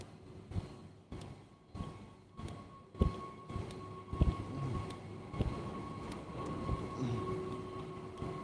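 Inside a train station, clanks and thuds of rail cars echo over a steady low rumble, with scattered knocks and hiss in the background.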